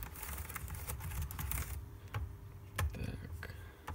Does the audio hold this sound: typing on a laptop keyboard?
yes